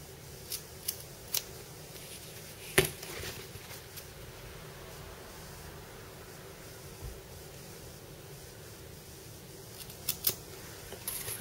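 Scissors snip through bag lining fabric to cut out a rectangle, giving quiet, close crisp cuts spread across a soft background hiss, with a few clearer snips standing out.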